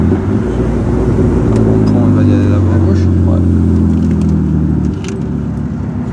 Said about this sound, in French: on se retrouve dans la 325 CI de 240 chevaux. Vous allez voir, ça fait un joli son.